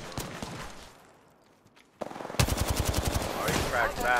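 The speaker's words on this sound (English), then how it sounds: "Opening fire on the enemy." Rapid automatic gunfire in the shooter game Apex Legends, a loud burst of evenly spaced shots that bursts in after a brief lull and keeps going with dense in-game effects layered over it.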